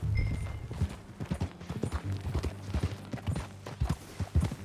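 Horse hooves clip-clopping at a steady riding pace in the Red Dead Redemption 2 video game, a rhythmic run of close, fairly soft hoofbeats with faint background ambience.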